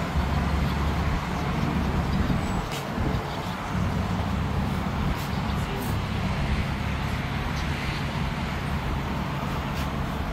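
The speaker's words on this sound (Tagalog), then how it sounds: "Daanan ng mga sasakyan." Steady, loud roar of vehicles passing on a highway beside a rest area between South Carolina and Georgia, a continuous close wash of engine and tire noise with no breaks.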